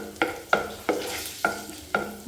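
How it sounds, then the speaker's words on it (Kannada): Fennel seeds frying on low flame in a pan for a paneer sandwich, with six evenly spaced spatula scrapes and stirs over a soft sizzle, close and clear, no talking. "ಇದೊಂದು 2 ಮಿನಿಟ್ಸ್ ಫ್ರೈ ಮಾಡ್ಕೊಳ್ಬೇಕು ಲೋ ಫ್ಲೇಮಲ್ಲಿ."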